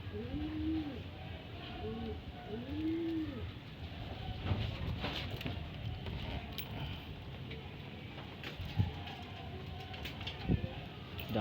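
Racing pigeons at a loft give low, soft coos in a few rolling phrases, quiet and near, over faint background rumble with occasional clicks.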